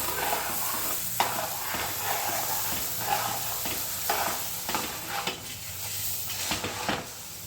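A spoon scrapes and stirs through crisp puffed rice and jaggery in a pot for puffed rice laddus, with rustling, clinking strokes and a faint sizzle underneath, no voices.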